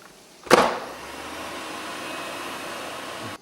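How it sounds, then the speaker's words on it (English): A T-Fal Actifry air fryer runs with a loud click or thump as it starts, then a steady, even fan whir that holds unchanged for several seconds; nothing else is heard. "I'm just going to let this run."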